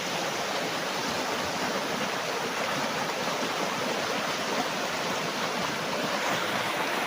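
A fast, strong river current rushes beside a farm lot in Majayjay, Laguna, a dense, steady roar of flowing water that stays close and loud with no talk over it.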